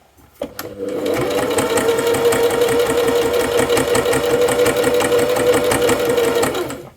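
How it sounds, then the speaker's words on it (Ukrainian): A domestic sewing machine stitching a small half-centimetre seam on a sweatshirt sewn without an overlocker, running in a fast, steady, close mechanical chatter for about six seconds after a couple of quick clicks. "давайте спробуємо прострочити маленький шов е, ну, пів сантиметра"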